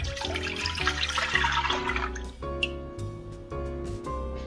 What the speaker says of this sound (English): fill the pot with 3 cups of water